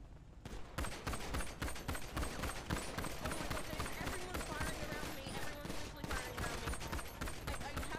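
Dense, sustained gunfire from a firefight in a GTA V roleplay game, with rapid overlapping shots and bursts running loud and continuous throughout, voices faintly mixed underneath.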